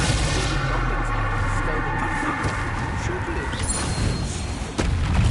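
Magic spell blasts in the Hogwarts Legacy video game, a dense continuous barrage of booming, crackling bursts and rumble, with a louder impact near the end.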